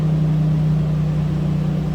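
The 3-liter engine of a 1994 Toyota Pickup Xtra Cab SR5 idles with a steady, low rumbling drone that stays even and continuous throughout, heard close up.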